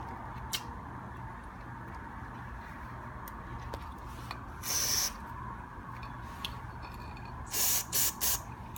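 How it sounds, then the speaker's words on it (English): Short spray bursts of carburetor cleaner into a lawn mower carburetor: a brief hiss near the middle, then a few quick close puffs toward the end, over a steady low background hum. "you don't want to spray too much carburetor cleaner down here"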